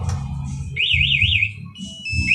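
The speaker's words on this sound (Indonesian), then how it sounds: "alarm tersebut tetap akan berbunyi keras, dan remote ini tetap akan respon getar dan bunyi keras seperti ini" A two-way alarm fitted to a Yamaha Nmax motorcycle sounds loudly in rising and falling warbling cycles, with a short pause before it starts again over a low background rumble.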